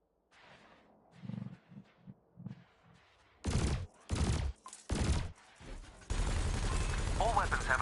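Spaceship weapons in Elite Dangerous fire at floating canisters, loud broadband bursts in several separate volleys followed by a sustained roaring barrage, after a stretch of lower rumbling sounds.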